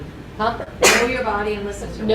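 A single sharp sneeze bursts out during a yoga class, loud and close, cutting into a teacher's ongoing talk, which continues right after.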